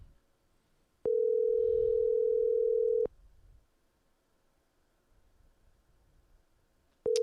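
Ringback tone of an outgoing telephone call: a single steady, loud electronic tone lasting about two seconds, then quiet line noise before the next tone begins at the very end.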